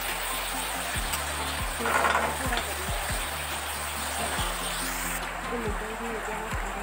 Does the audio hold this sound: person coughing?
no